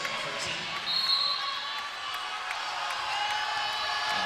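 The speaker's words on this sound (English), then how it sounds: "Crowd starts to get loud again." Crowd noise at a Penn State vs Indiana women's volleyball match, a broad continuous roar swelling slightly with scattered cheers and whistles across the arena.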